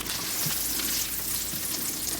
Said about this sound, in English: I'm just gonna throw my stick of butter into the frying pan.